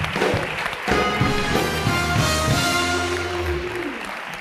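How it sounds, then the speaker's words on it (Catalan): Strong applause from a TV game show studio audience, dense and loud clapping that fills the moment, with musical tones sounding over it and slowly easing off. "un fort aplaudiment, 10 de 10"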